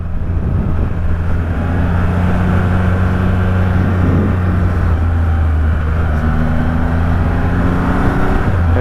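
A Triumph Rocket 3 with its 2500cc engine pulls hard in a loud, sustained low roar, the engine note rising steadily under constant wind rush.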